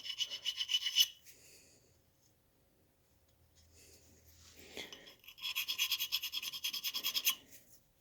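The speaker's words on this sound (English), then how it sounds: "You can hone them this way, just knock the burrs off." A drill bit being honed by hand to knock off burrs, giving close, rapid scraping rasps in two bursts separated by a quieter pause.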